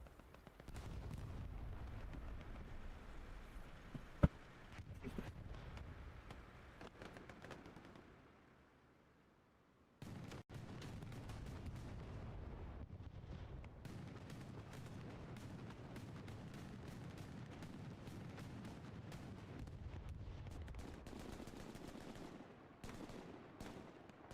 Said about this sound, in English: big explosions there.